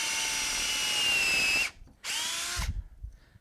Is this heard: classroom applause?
no